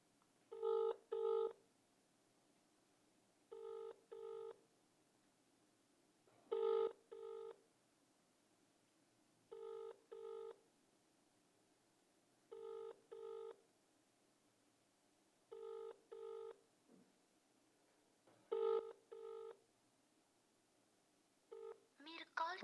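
An unanswered outgoing phone call rings back in repeated paired electronic tones, evenly spaced every few seconds, clear and fairly faint against a quiet line.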